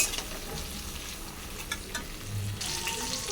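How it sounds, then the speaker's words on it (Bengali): Steady sizzling and crackling of potatoes frying in a hot pan, with occasional stirring scrapes; no voices. "ভালো করে আলু ভেজে নেব"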